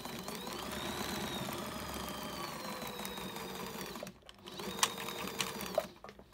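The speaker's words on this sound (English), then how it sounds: "we just have to finish by stitching our final bit of our French seam" A sewing machine stitches a French seam on a fabric bag, running with a steady, close whir for about four seconds before stopping, followed by soft clicks and fabric handling.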